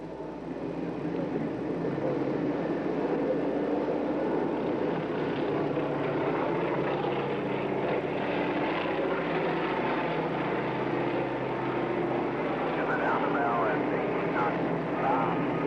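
A steady helicopter rotor and engine drone fills the air as it comes in to land on a ship's flight deck, with a crowd of sailors murmuring beneath; faint higher whines rise near the end.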